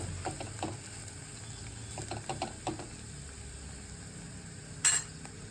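Mahua fruit vegetable stirred with grated fresh coconut in a pan, giving soft scraping and stirring clicks with a faint steady sizzle underneath and a brief sharper clatter near the end.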